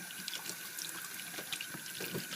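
Tap water running over a baseball hat being rinsed in a sink, a soft, steady splashing stream with faint irregular spatters, heard quietly and alone.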